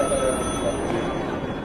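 A telephone rings in an office as a call goes unanswered, its continuous ringing tone sitting amid a busy, loud background with a voice talking over it.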